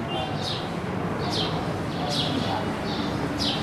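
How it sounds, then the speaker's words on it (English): Birds chirp in short repeated bursts every second or so in the courtyard of the Sheikh Safi al-Din shrine complex in Ardabil, over a steady wash of outdoor ambience. "Sound of the birds,"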